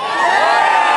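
A large outdoor crowd at the March on Annapolis political rally cheers and whoops, a dense, loud wall of voices swelling briefly and holding steady.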